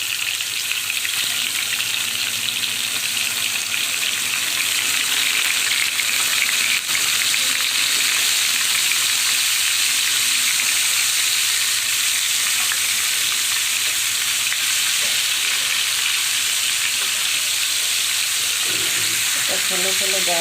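Cubes of paneer fry in hot oil with a loud, continuous sizzle that stays close and steady throughout, with occasional faint stirring and no clear talking.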